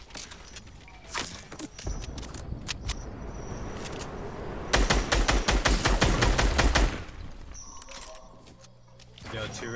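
Video game gunfire: scattered sharp single shots, then a loud, sustained rapid-fire burst, then a few more isolated shots, with voices talking at times.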